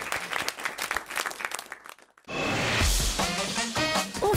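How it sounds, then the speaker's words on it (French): Studio audience on a French radio-television show breaks into applause after a brief lull, loud sustained clapping following a short stretch of speech-like sound before a near-silent gap. "on l'applaudit quand même, il a été deux fois champion du monde."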